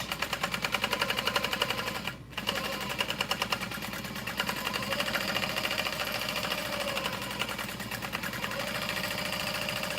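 A sewing machine bastes around the outside edge of a messenger bag, running with a fast, even stitching rattle that stops briefly once, then carries on close by.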